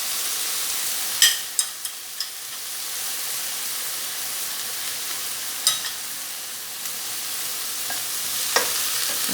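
Tom yum fried rice being stir-fried in a pan, a steady sizzling hiss throughout with a few sharp clanks of the spatula against the pan, close and fairly loud with no talking.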